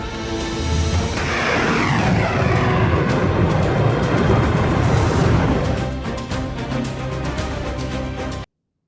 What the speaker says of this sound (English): if this is in fact a video of missiles fired last night